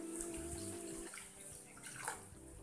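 Water poured into a cooking pot while making pork adobo with string beans, a soft steady pouring and splashing with light gurgles, close and fairly quiet, with no talking.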